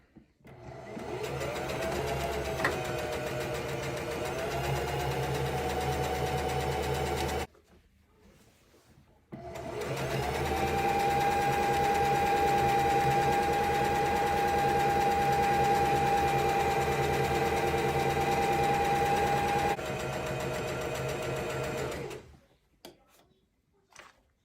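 A sewing machine runs a straight stitch on a ribbon skirt in two long stretches, a close, busy mechanical whir with a sustained tone, pausing briefly in between.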